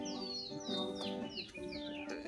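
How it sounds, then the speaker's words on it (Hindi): Birds chirping on an early morning in a village, with repeated quick descending calls and trills from several birds close by over a soft background. "चिड़ियों की आवाज़ के साथ।"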